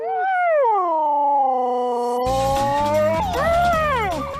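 A long, wavering husky howl rising and falling in pitch, joined by more howling and background noise partway through.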